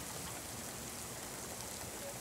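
Steady rain falls with an even, continuous hiss, close and moderately loud, with no voices over it.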